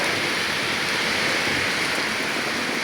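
Light rain falls steadily, forming a puddle, a dense even hiss with no breaks and no voices.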